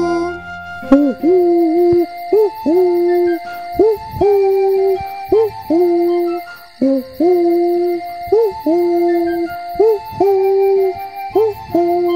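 Repeated hooting calls in a regular two-note pattern, loud and close, with brief pauses between each pair; a voice imitating an owl in a French children's song.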